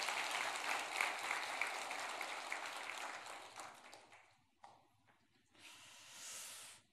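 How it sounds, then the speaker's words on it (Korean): A church congregation claps together, a broad loud wash of applause that fades after about four seconds, followed by brief rustles and a soft hiss. "박수 한번 크게 해주시면 좋겠습니다"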